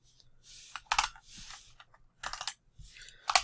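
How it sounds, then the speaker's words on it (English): Typing on a computer keyboard, close and fairly quiet, with bursts of clicking keystrokes separated by brief pauses and no speech. "I'm a bit slow typing"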